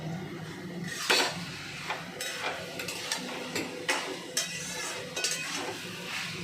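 Close metallic clinks and scrapes come from a spoon stirring a cornflour mixture in a pressure cooker pot, in a steady run of sharp knocks spaced roughly half a second to a second apart, over a quiet kitchen hum.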